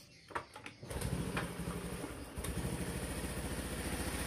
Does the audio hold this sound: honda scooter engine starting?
yes